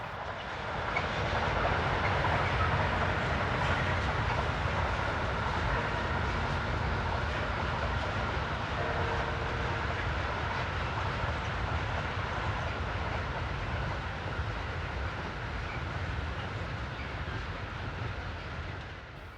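Swiss Re 6/6 Class 620 electric locomotive 11649 coasts down a grade approaching Frick with a train, producing a steady, loud rolling rumble and rail noise that holds throughout and eases slightly at the end.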